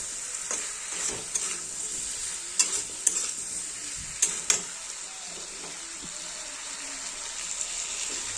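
Rohu fish frying in a pan, giving a steady, close hiss of hot oil with a few sharp spatters and clicks scattered through, no voices.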